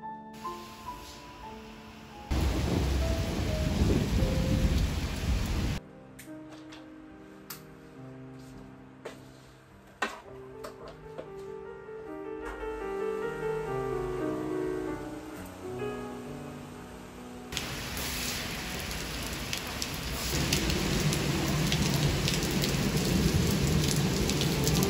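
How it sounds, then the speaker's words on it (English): Heavy pouring rain with low rumbles of thunder in a Mediterranean setting in August, the downpour shifting between louder and softer bursts, with scattered drips and splashes. "Just woke up to the sound of pouring rain."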